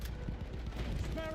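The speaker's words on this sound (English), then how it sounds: "Machine gun over there." Machine gun fire in the video game Battlefield 1, a rapid, steady rattle of shots throughout with a low, dense rumble underneath.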